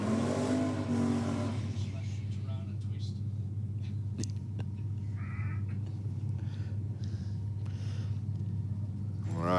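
Drag racing engine rumbling steadily at a start line, with Brett Stutchbury's Commodore in the rocket lane, a deep continuous drone with brief sharp clicks and a short voice at the start.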